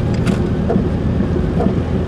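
Rain falls while a car drives along a road heading toward the ocean, a steady broadband wash of rain and tyre noise over low engine rumble, with no talking.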